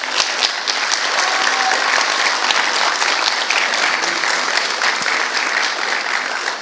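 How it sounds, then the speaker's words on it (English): A church congregation applauds graduating seniors, dense sustained clapping filling the sanctuary evenly from start to finish. "Church, would you guys honor them with a round of applause?"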